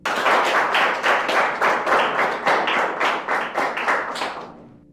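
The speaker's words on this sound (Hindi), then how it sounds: "तो सब लोग जोर से तालियां बजाकर इनका अभिवादन करो।" A room of students claps loudly for the winning classmates, rhythmic unison clapping with a steady pulse of strong, close beats for about five seconds before stopping abruptly.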